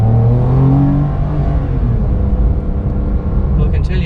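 A Porsche 992 Carrera S engine revs up quickly at part throttle, a loud deep rising growl that settles into a steady rumble with a faint high whistle near the end.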